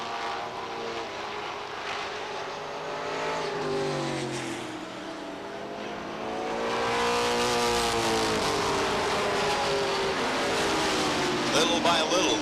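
Race cars roar around the Beech Ridge Motor Speedway oval during 1993 weekly racing, engines swelling and fading as the field passes, with an announcer talking over the steady motor drone.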